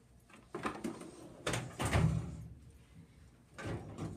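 A hospital crash cart's procedure drawer slides open in a simulation center, several soft rolling thumps and rattles of the drawer and its contents at close range, fairly quiet and without talk.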